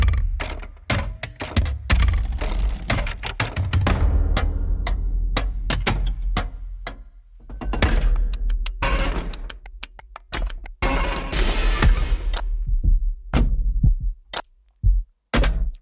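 Industrial triplet percussion from a Heavyocity Damage Machina sample library plays as a series of loud, clanking metallic hits and thuds in uneven bursts, with a noisy swell in the middle and sparse hits trailing off at the end.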